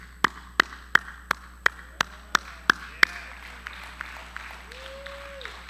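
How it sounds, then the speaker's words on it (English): Sharp hand claps ring out at a steady beat, about ten in a row, then stop, leaving faint room noise and a brief tonal sound. "Clapping of hands."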